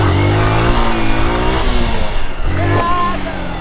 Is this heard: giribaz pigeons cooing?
no